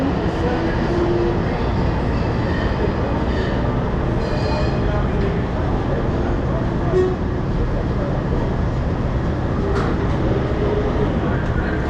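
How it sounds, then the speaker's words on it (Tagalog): A train rumbles steadily along the rails from inside a carriage, a constant loud clatter and roar throughout. "Ito po yung mali kami sinakyan ng tren."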